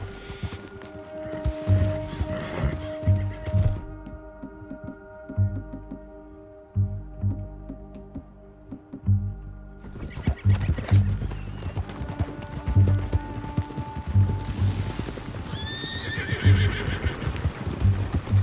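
Horse in the Red Dead Redemption 2 video game, galloping with rhythmic hoofbeats and neighing loudly, a brief quiet gap midway before the hooves and whinnies resume close up.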